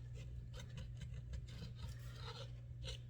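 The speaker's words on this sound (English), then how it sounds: "adhesive, scrape it off the best I can" Adhesive being scraped off a plexiglass coachroof panel during a boat repair, a steady low rasping rub that repeats in short strokes, quiet against a constant low hum.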